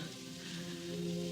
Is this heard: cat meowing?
no